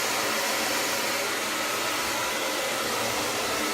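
A hair dryer blows steadily at close range, drying wet hair over a round brush, with an even, continuous airy roar and no talking.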